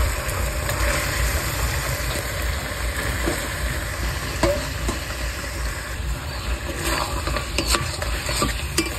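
Washed meat fries in a pan over spiced masala on low heat. It makes a continuous dense sizzle with occasional clinks and scrapes of a utensil stirring, and nobody speaks.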